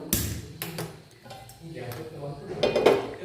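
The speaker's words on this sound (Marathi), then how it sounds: "त्यावर आपण आंबोळीचा तवा ठेवला आहे" An amboli griddle (tava) is set down on a gas stove with a few close metallic clanks and knocks. Softer kitchen rattles follow.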